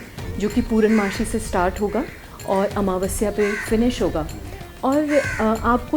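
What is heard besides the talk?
crow cawing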